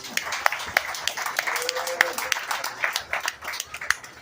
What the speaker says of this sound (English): So let's give them all a round of applause, please.